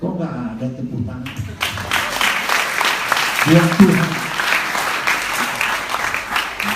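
A church congregation breaks into applause during a sermon, starting after a short spoken phrase and swelling into sustained clapping, with the preacher's voice briefly cutting through.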